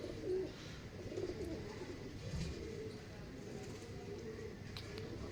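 Teddy pigeons coo softly in low, murmuring calls, with steady background noise and faint talk in the distance.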